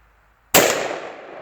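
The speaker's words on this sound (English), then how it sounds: "Let's see if we can get some hit on those rims." A single sharp blast from a 12 gauge shotgun loaded with a cut shell, fired outdoors at wheel rims, with a loud crack followed by a long fading echo.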